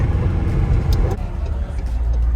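McLaren car taking a hard turn on the road, a steady loud engine hum and rumble with a brief surge near the middle, no talking.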